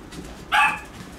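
A puppy gives a single short, bright bark or yip close by during play with another young dog, with quiet room sound around it.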